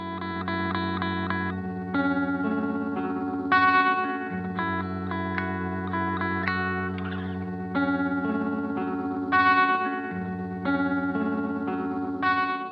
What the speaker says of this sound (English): the modify knob is going to allow me to interrupt this and freeze it in one of those slices